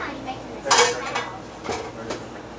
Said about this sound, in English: I will just hear the pots and pans.